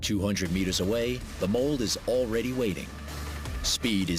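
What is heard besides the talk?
No distinct noise like a dog, phone or traffic.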